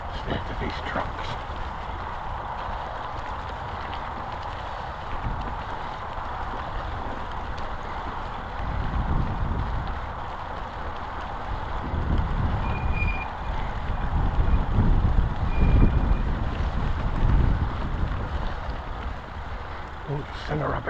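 Heavy trucks pass along a road near a rural woodland edge, their engine rumble swelling and fading over about twenty seconds with a reversing beep in the background, under steady outdoor noise.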